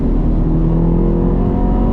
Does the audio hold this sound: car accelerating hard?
yes